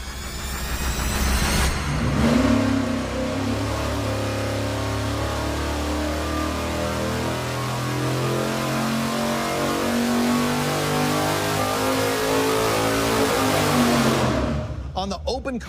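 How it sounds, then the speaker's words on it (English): A high-performance V8 engine running on a dyno with an open carburetor and no air filter: a loud, sustained roar that rises and holds steady under load, then drops off sharply at the end. "first we're gonna fire it up and run it with no air filter on it at all"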